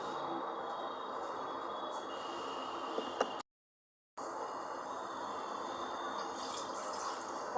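Water is poured into semolina for Diwali sooji sticks, a soft steady rush of liquid that stops briefly midway and then resumes, with no voices.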